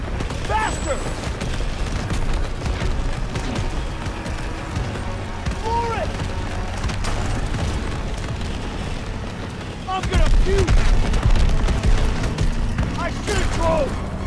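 Gunfire and explosions from a World War II video game campaign mission, a dense, loud barrage of shots and booms that swells louder toward the end, with no talking.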